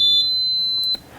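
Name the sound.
US Steam Eagle Plus steam vacuum power-on beep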